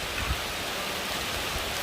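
Rain pours steadily in a short spell while a baby elephant plays in it, a dense even hiss with no voices.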